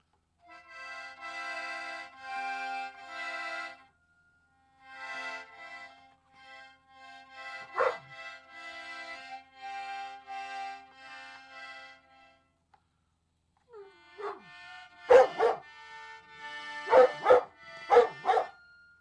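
A dog gives several sharp barks and yips, mostly near the end, over sustained accordion chords played indoors.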